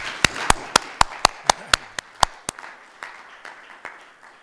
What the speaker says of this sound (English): Let's give a round of applause for that one.